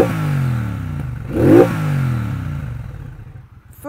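A Triumph Bonneville Bobber 1200 motorcycle engine idles with a deep, rumbling throb, swells into one sharp rev around the middle, then settles back to a steady low idle, close and loud with no talking.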